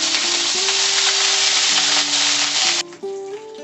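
Ginger paste sizzles loudly in hot oil with tempering spices for Bengali shukto. The steady frying hiss carries on for nearly three seconds, then drops off sharply and returns quieter, with a faint melodic tone running underneath.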